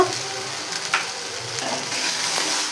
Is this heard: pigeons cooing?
no